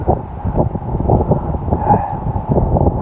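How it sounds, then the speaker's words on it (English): Steady wind buffets the microphone on an open mountain viewpoint on Mt Rogers in Virginia, a constant low rumbling roar with gusty swells and no talking. "You can hear the wind still. It's quite windy"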